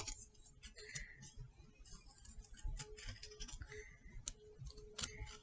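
Small scissors snip through paper while a beak shape is cut out of a coffee filter, giving soft, irregular clicks and crisp snips in a quiet room.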